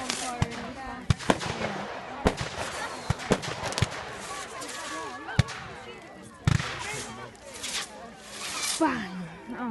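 Scattered bonfire night fireworks pop and crackle in irregular sharp bangs, a few close and loud, mixed with hissing and people chatting nearby.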